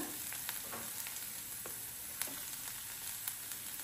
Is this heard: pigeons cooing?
no